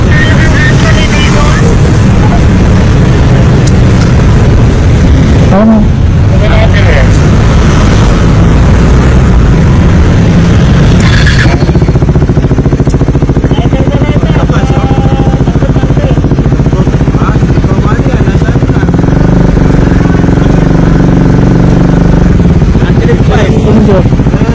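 A 400cc motorcycle with an aftermarket exhaust pipe idles and revs at close range, a loud, constant engine drone with a shift in tone partway through. No talk is heard over the engine.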